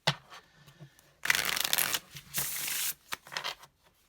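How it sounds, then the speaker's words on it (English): A deck of smooth yet slightly rough playing cards being shuffled close up, with a few soft riffles, then two long loud riffling bursts and some shorter flutters at the end. "This is fun to shuffle."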